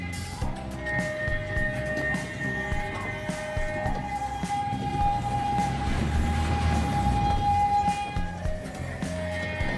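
A small mini train ride in an open theme park rumbles and clatters along steadily, with a sustained whistle-like tone rising in the middle and faint voices in the background.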